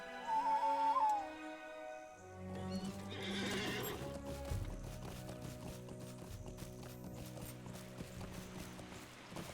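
A horse in the Lord of the Rings Online video game lets out a clear whinny, followed by clip-clopping hooves and mechanical clicks layered over steady game ambience.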